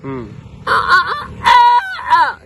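A voice imitates a rooster crowing, with three loud, drawn-out calls that rise and fall, close to the microphone.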